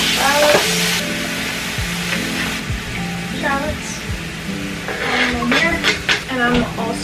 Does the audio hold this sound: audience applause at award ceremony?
no